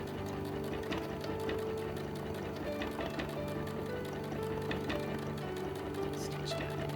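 A sewing machine quilting over painted fabric runs in a steady fast rapid stitching patter throughout, close and moderately quiet, with a person talking over it.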